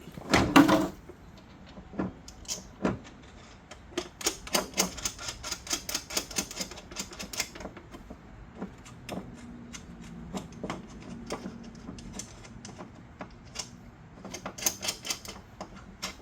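Close, fairly loud clicking and ratcheting from a hand tool as coilover bolts are tightened on a 2000–2003 Nissan Maxima, with irregular bursts of rapid ticks and occasional metallic knocks spread over the whole stretch.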